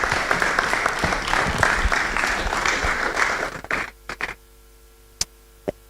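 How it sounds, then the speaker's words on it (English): An audience at a university public lecture applauds to welcome the speaker, a dense burst of clapping that stops abruptly near four seconds, followed by a few scattered claps and isolated clicks in near silence. "So with a round of applause, let's just welcome Dr."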